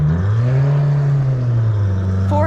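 A high-horsepower car engine with a loud exhaust idles and revs nearby, its deep, steady drone swelling slightly and then easing, close and loud throughout.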